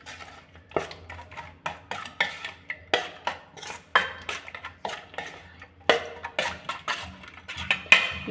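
A spoon stirs curd in a metal vessel while mixing it thoroughly, a brisk series of clinking, scraping strikes against the pot coming every half second or so, close and clear with no talk.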